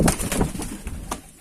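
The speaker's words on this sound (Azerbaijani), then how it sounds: "İşte kuş kaldı." Pigeon cooing close by in a loft, a few short soft coos and rustles over quiet background.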